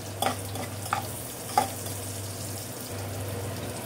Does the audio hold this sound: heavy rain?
no